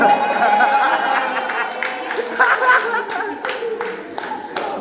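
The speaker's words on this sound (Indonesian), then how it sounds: "Benar, tepuk tangan" Students in a classroom clap in scattered, uneven bursts during a microteaching practice session, with chatter and light laughter mixed in around the claps.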